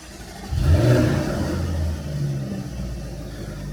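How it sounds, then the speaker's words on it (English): A Jaguar supercharged V8 with active exhaust cranks and fires, catching with a deep burst of revs before settling into a loud, throbbing idle rumble close by. "First stage, fire up that supercharged engine"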